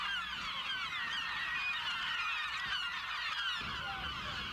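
Gulls calling at a crowded seabird colony on Gull Island, Newfoundland, a dense, continuous mass of overlapping harsh squawks and cries from many birds, loud and close with no voices.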